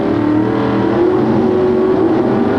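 A drag racing car engine at the 1989 Southern Nationals in Commerce, Georgia roars continuously at high revs of about 9,000 RPM, a loud, dense drone filling the whole stretch with no voices.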